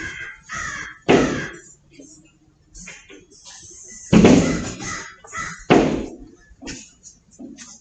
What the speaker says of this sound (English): there's crows flying into the window